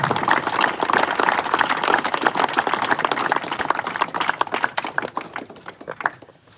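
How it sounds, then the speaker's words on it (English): An audience at the opening ceremony of an inclusion carnival gives a warm, sustained round of applause for Barossa Mayor Bim Lange, the clapping loud and dense before thinning out toward the end. "Big round of applause for Bim."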